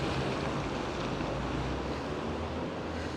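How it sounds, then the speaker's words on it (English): Steady, roaring wind rushes continuously across a microphone on a street in Vancouver, a broad outdoor whoosh with no pauses and no voices. "a windy day like today is far and few between"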